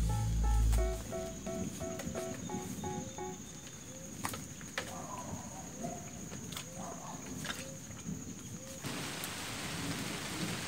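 Rain begins pattering on a surface while thunder rumbles low, at a campsite beside a river, with scattered sharp taps and drips; the shower grows denser toward the end.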